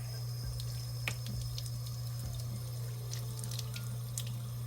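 Water flows steadily from a faucet with a few splashes and taps as a makeup brush or beauty sponge is rinsed by hand, over a low constant hum.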